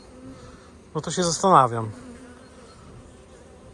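Honeybees at an opened hive give off a low, steady buzzing hum in the background, briefly covered by someone speaking close to the recorder.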